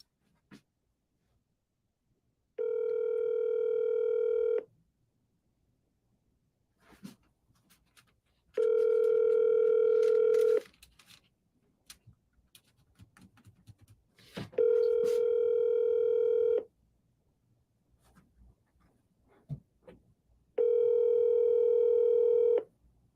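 An outgoing telephone call rings out toward voicemail: four evenly spaced, sustained ringback tones about two seconds each, separated by quiet gaps with faint handling noise.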